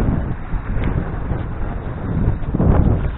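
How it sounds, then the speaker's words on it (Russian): Wind gusting across an island shore, a steady loud rushing roar with low buffeting rumble that swells and builds toward the end, with no talk. "Да, и здесь ветер."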